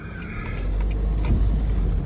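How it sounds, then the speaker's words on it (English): Inside a Nissan NV200 cargo van, the diesel engine runs with a heavy low rumble that swells and stays steady, on a rough road, with faint rattles and no talk. "you have this awful diesel engine shaking the entire car."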